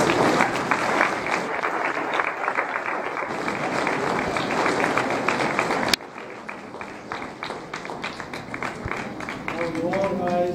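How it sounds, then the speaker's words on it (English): An audience applauds at a US citizenship naturalization ceremony, dense clapping filling the room, then thinning after a sudden drop midway into scattered claps as a voice begins speaking near the end. "So a round of applause for all of you."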